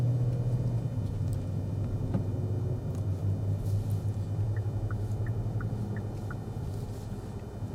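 Steady low road rumble and engine drone from a 2024 Kia Telluride Prestige X-Pro cruising on an expressway, heard from inside the cabin, with faint high clicks over the constant hum.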